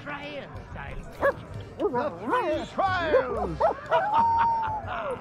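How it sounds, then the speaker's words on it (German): Dog in the pirate video game Sea of Thieves, Monkey Island adventure, letting out a series of short yips, whimpers and barks, with one longer whining tone, up close and in the foreground alongside other game sounds. "Oh, hier ist der Hund."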